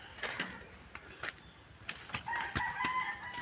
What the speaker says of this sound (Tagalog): may manok po kami din